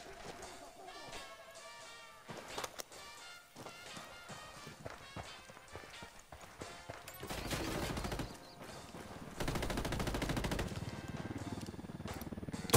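Gunfire in a first-person video game: rapid bursts of shots and scattered single cracks, mixed with footsteps, building to dense loud volleys toward the end.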